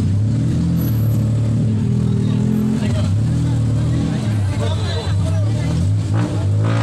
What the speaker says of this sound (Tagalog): We're riding tok-tok.